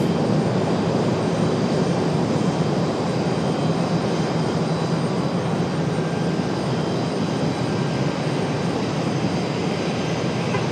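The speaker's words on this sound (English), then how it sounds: "Here we've got American Airlines coming up from Charlotte." American Airlines airliner arriving from Charlotte at Raleigh-Durham International, its engines a continuous broad roar holding steady and fairly loud for about ten seconds, alone without voices.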